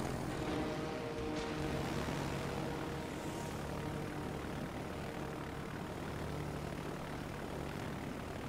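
Propeller planes and bombers in a console flight combat game drone in a steady, dense engine roar that fills the whole stretch without letting up.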